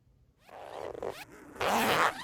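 A zipper is pulled in a few quick strokes, close up, with a longer, louder zip at the end.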